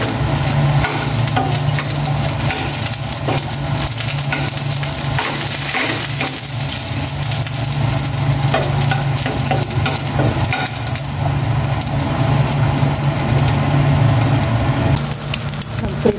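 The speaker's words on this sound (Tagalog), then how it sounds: "Asa ko na po yung bawang." Garlic sautéing in a frying pan gives a steady, close sizzle with occasional stirring scrapes. A low mechanical hum runs underneath throughout.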